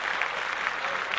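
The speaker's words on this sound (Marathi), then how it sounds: "उत्सव ग्रुपसाठी आपण एकदा जोरदार टाळ्या वाजवूयात" An audience claps loudly for a women's group at a Mangala Gaur festive gathering, a thick uniform patter of many hands that holds steady throughout without pause.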